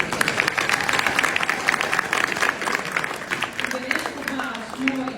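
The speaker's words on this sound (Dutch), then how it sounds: "nou applaus voor iedereen, applaus." Audience applause at a community gathering in Belgium, a steady clapping crowd sustained throughout, with some voices mixed in beneath the clapping.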